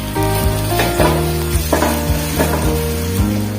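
Onions and tomatoes fry in a pan with a loud, steady sizzle and occasional stirring scrapes, accompanied by background music and no speech.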